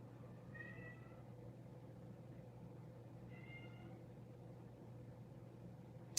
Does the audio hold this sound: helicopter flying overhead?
no